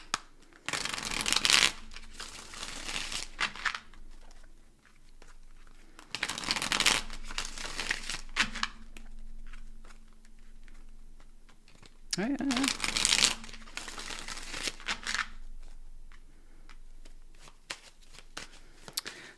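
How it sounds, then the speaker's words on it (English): Tarot cards are shuffled in several bursts of crisp riffling and flapping, separated by quieter pauses, recorded close with a faint voice between shuffles. "you have flawless shuffling"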